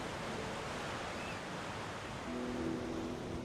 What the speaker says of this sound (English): The waves break between two rocky sides, making it fun for all skill levels.